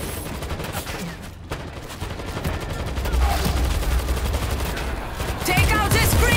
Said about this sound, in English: We've got auto turrets in here!